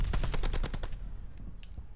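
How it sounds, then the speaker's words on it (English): Rapid burst of video game gunfire from a Kimbo double barrel shotgun, about eight loud close shots in quick rhythm over the first second, then fading into a low rumble and faint game ambience. "Kimbo double barrels fire,"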